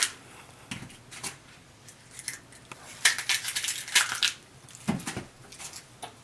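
An onion is sliced with a knife on a cutting board for a roasted vegetable and Parmesan torte, giving scattered crisp crunching cuts that cluster into quick bursts, close and fairly quiet, with no talking.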